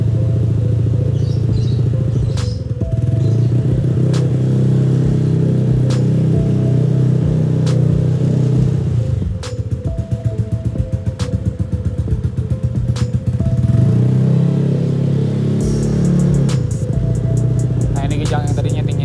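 Honda Vario 150 scooter engine running close and loud, a steady droning hum with rising revs and rattly pulses, continuous throughout with a shift in tone near the end.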